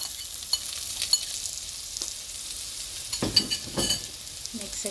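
Bitter gourd (karela) dropped into roasted masala in a pan, with soft sizzling and scattered stirring scrapes that grow busier toward the end, heard close with no talk.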